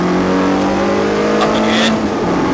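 Race car at full power on a Bruntingthorpe track day, a loud continuous engine roar heard close from inside, holding a steady pitch with a slight rise, with a voice speaking over it.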